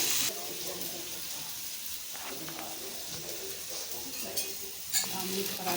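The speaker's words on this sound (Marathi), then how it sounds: "बघा, तिकडं आलूही टाकलेला आहे फ्राय करायला।" Potatoes fry in a pan over a strong gas flame, giving a continuous hiss and sizzle with some stirring clatter. A clink and a louder burst come near the end.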